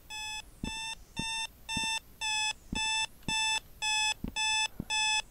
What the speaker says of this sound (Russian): этот сраный будильник с прошлой серии сейчас опять начнет пищать